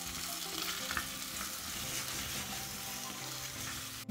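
Vegetables sizzle loudly in very hot, smoking fat in a pot for beef bourguignon, making a dense, steady crackling hiss that runs close and unbroken throughout.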